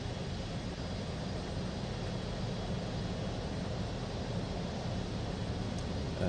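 A helicopter flies over canyon country in Microsoft Flight Simulator 2024, a faint steady engine and rotor drone that hums evenly throughout without talk.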